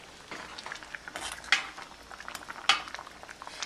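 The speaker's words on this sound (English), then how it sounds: "So I'm just going to stir the condiments inside." A spoon stirs delicate pink beans with added condiments in a cooking pot, giving soft scraping and light clinks against the metal, with two sharper knocks standing out from a quiet, low-level background.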